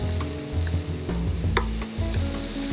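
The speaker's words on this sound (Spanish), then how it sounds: "Gracias a tener la sartén caliente, el hongo también se nos está caramelizando." Boletus mushrooms sizzle and caramelize in a hot frying pan, a steady close frying crackle with a few brief stirring scrapes and no voices.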